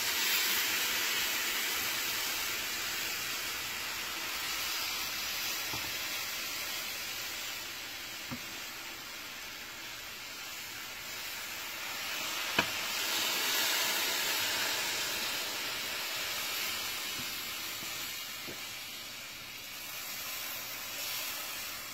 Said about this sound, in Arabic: هحط لها الشربات، هي لسه سخنه، الشربات بارد، وهسقيها.